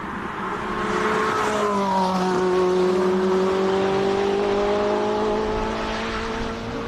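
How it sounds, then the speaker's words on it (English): A 2012 Ferrari 458 Speciale with a naturally aspirated V8 at a hillclimb, its engine note rising loud and near as it revs up, holding a strong sustained tone before easing slightly at the end. "Oh, last naturally aspirated V8 Ferrari."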